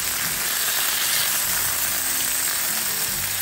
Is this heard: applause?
no